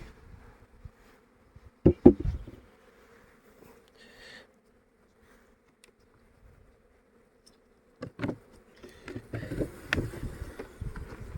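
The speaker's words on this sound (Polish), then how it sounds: "Tylko, że ja nie mam dymu, pogonią mnie zaraz pszczoły." Bees buzz around a beehive near blooming rapeseed, with short close passes near the microphone at the start and a busier cluster of buzzing toward the end, separated by quieter hum.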